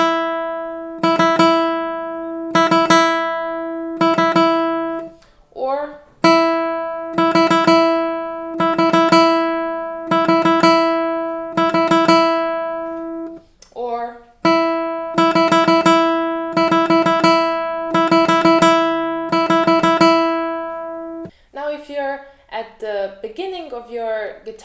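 Classical guitar speed-burst exercise on nylon strings: short rapid flurries of alternating-finger notes, several bursts separated by brief pauses, close and clear, with a short spoken interjection near the end.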